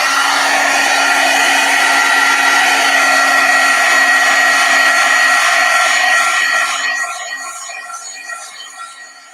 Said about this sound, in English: this is going to be loud for a second because I'm using my Seth Apter heat gun because it's hotter